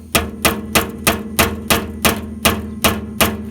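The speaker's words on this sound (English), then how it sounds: "I'm going to tap a little hole" Ten evenly spaced sharp metallic taps from a hammer striking a nail against metal, steady rhythm, close and clear with no talking.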